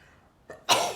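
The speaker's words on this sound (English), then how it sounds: "I'm going to sneeze." A short sharp burst, like a sneeze or cough, erupts close by after a quick breathy lead-in.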